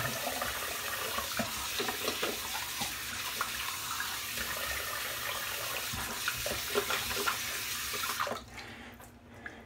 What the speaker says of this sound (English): Let me rinse off real quick and we'll put the post shave on.